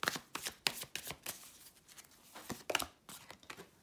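Tarot cards shuffled by hand during a card reading, giving a quiet run of crisp riffling and slapping bursts in uneven rhythm, close and soft, with no talking.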